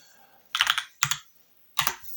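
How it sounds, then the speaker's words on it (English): Computer keyboard typing in three short bursts of quick, crisp key clicks separated by brief pauses, close and clear with no talking. "my keyboard is not in place, so that's why it types slow as hell"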